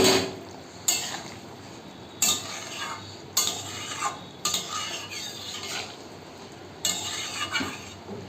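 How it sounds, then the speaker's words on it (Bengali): Fried singi fish goes into a boiling curry, with a series of sharp metal spoon clinks and scrapes against the pot at irregular intervals, each followed by soft bubbling and stirring noise. "এই যে আমার ঝোলটা ফুটে উঠেছে, এর মধ্যে আমি এই যে ভেজে রাখা মাছগুলোকে দিয়ে দেব।"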